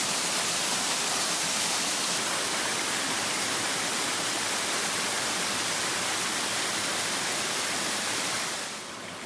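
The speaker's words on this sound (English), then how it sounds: "What a beautiful waterfall." A steady, dense rush of water pours from a small waterfall into a pool along the Alum Hollow Trail in Alabama's Green Mountain Preserve, a constant close hiss that eases slightly at the very end.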